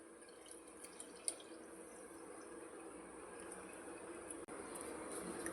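Homemade ghee is poured through a strainer into a bowl, giving a faint, steady trickle broken by a few light clinks, quiet and close with no talking.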